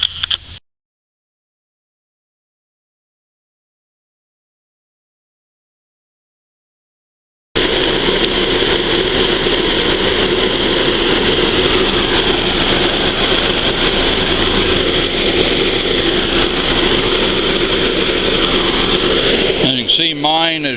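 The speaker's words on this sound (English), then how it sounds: "start up the engine and have the AC on high to check your gauge" A 2011 Ford Fiesta idles with the AC on high. After several seconds of silence, a loud, steady broadband drone of engine and blower noise starts and holds until the end.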